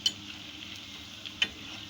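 Kebabs frying in hot oil, a soft steady sizzle broken by two light clinks of a utensil, close and fairly quiet, with no talk.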